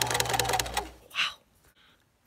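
Old 1970s sewing machine stitching fabric for pet pillows and blankets, a fast close mechanical rattle for about a second, then stopping, followed by a few faint handling sounds.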